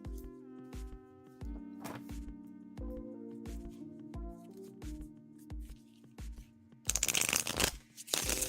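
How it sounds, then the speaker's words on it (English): Tarot cards shuffled by hand in repeated short riffles over steady background music, with a louder, denser burst of shuffling near the end, close and faint. "I am shuffling for you now."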